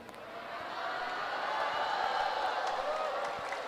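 An audience at an Islamic sermon claps together, a dense, even patter of many hands that swells slightly and holds at a moderate distance.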